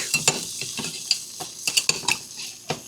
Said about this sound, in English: A couple jalapenos because I'm out of. Throw them right in there and let them cook.